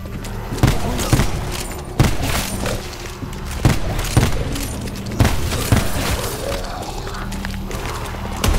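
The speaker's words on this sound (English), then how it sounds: "This rifle is for me. After all, it is a tactical rifle." A tactical rifle in Black Ops 4 Zombies fires repeated single heavy shots, roughly one per second, thudding over a busy background of game noise.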